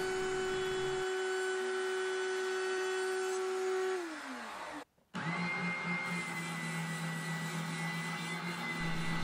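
A router fitted with a straight-edge template trims the edges of a custom T-type guitar neck to its taper. The tool whines loudly and steadily, its pitch falls as it spins down, it cuts out for a moment, then it starts up and drones again.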